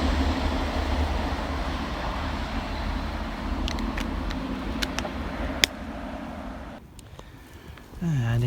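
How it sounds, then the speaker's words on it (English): A Northern service train pulls into Church Fenton station, a steady low rumble of rolling stock with brief sharp clicks and a rising engine or brake tone near the end, heard close on the platform. "here comes our train to take us away, the 10:34 Northern service"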